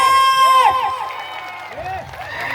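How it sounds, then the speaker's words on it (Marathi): Women in a village fair crowd in Satara raising a loud collective cheer and shouting, with overlapping high voices swelling and falling over crowd noise. "एकदा मला परत महिलांचा आवाज ऐकायचा महिलांचा एकदा जोरदार आवाज आला पाहिजे"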